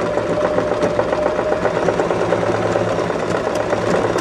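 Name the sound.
sewing machine stitching a buttonhole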